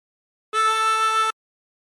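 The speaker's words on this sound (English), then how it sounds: "breathe in through 2." A single drawn note on a 16-hole tremolo harmonica, breathing in through hole 2, sounds as a steady, bright, reedy tone held for under a second, close and alone.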